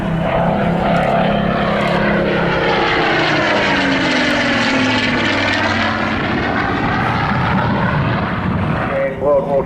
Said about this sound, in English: the different growl you hear here today of the Griffon engine as opposed to the standard Merlin